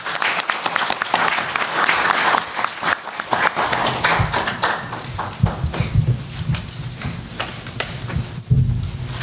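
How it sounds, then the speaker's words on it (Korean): A hall audience at a press forum claps to welcome the Japanese ambassador to Korea, a dense, sustained round of applause that carries on steadily throughout, with low rumbling noise beneath it. "박수로 환영해 주시기 바랍니다."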